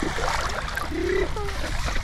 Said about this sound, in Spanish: Vamos a echar nade aquí en el río Danubio junto a la fortaleza Capidava.